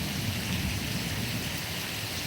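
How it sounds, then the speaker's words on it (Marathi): Heavy rain pours down in a steady, dense hiss with no pauses. "खूपच जोरदार आणि मुसळधार पाऊस"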